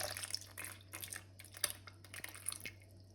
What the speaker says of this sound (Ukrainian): Наливаємо 70 грамів вершків.